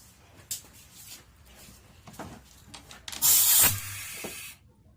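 Compressed air from a Harbor Freight vacuum and pressure tester hisses into the cooling system of a 2003 Lexus ES300 at about 10 psi. After a few light handling clicks, a loud, steady rush lasts just over a second, then cuts off.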